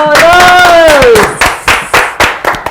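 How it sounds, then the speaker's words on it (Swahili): A family is welcomed with rhythmic group clapping. Loud, close handclaps fall in an even beat after a sung or called-out voice. "makofi ya The Mburus"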